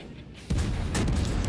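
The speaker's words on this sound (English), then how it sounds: "I'm going to switch over to AP real quick after my HE is loaded and just pop off some shots." Warship naval gunfire in a video game, a sudden heavy boom that rolls into a sustained rumbling roar and crackle, loud and close, with no talk.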